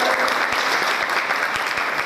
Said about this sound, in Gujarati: એકવાર જોરદાર તાળી બધા પોતપોતાના માટે વગાડો